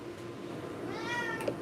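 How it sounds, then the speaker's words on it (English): A pet cat lets out a single meow that rises and falls, heard over a low steady background hum indoors. "Yeah, I love this cat"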